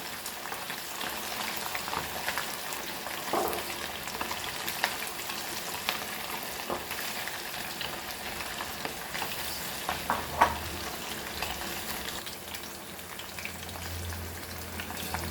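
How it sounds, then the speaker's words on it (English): Tiny Goan Motiyale fish fry crispy in oil over a slow flame, a dense, steady crackle and bubbling sizzle with occasional faint clinks, no speech over it. "So like this only you have to fry this all."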